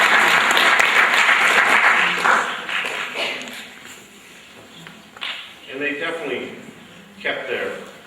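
Applause from an audience at a spring sports awards event starts strong, then thins into scattered bursts of clapping that fade and return, with a voice speaking over the quieter gaps.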